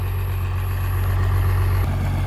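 Water pump engine running steadily at a low idle, stuck and unable to rev up, a loud continuous heavy drone with a low hum, heard alone.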